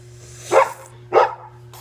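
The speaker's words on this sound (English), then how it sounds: "my dog stopped barking" A dog barks twice, loud and close, each bark short and sharp with a brief pause between, over a low steady indoor hum.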